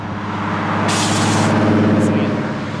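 AirLift 3P air suspension on a Nissan 370Z vents air in a loud broadband hiss lasting about half a second, with a short fainter puff after it, over steady wind noise and a low hum.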